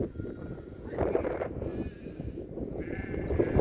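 Sheep in a flock penned on a red-soil field bleat faintly in quavering calls against a steady, rumbling outdoor background.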